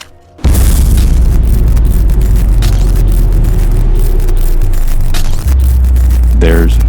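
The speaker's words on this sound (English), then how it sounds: "that's when the explosion and light show begins." An explosion sound effect in an audio story: a sudden loud boom that swells into a sustained, crackling roar lasting several seconds, with a brief dip and another surge near the end.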